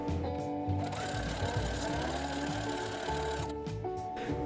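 A sewing machine zigzag-stitches along a folded belt edge on a costume bandolier, a close, quiet, rapid mechanical chatter running without a break.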